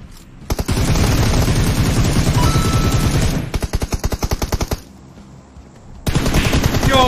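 Dense automatic gunfire in a mobile shooter match with a McLaren-skinned character, loud and close, coming in long sustained bursts, then a rapid run of separate shots, a short lull, and another sustained volley.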